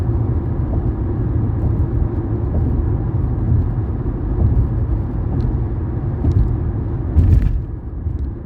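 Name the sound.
limo bus passing on the other side of road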